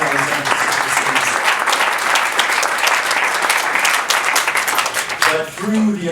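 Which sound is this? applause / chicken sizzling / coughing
applause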